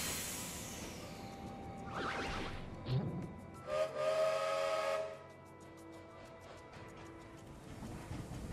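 Steam train whistle of the Doom Train in World of Final Fantasy, a hissing, rising whistle blast with steam whoosh, moderately loud over a faint ambient music bed, fading into a quieter hiss.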